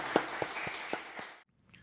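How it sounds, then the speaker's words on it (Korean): Congregation clapping at a Friday night church prayer meeting, a short burst of several loud claps with some irregular rhythm under broadband crowd noise, cutting off abruptly into near silence. "하나님께 영광의 박수 올려드리십시오."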